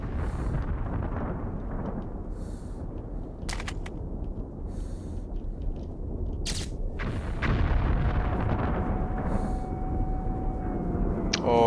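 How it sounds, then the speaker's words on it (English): Deep rumbling booms of missile explosions in Metro Last Light roll on continuously, loud and low, with sharp crackling bursts breaking through and a rising whine near the end. "Missiles."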